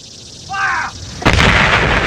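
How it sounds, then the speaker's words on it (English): Union artillery opening fire at Gettysburg on Cemetery Ridge and Little Round Top: a brief wavering tone, then a loud, close cannon boom that rolls on for nearly a second. "Suddenly, the Union artillery on Cemetery Ridge and Little Round Top opened fire"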